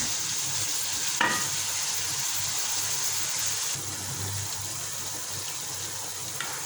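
Onions sizzle steadily in a hot pan as they turn golden, with a brief scrape of stirring partway through; no voices.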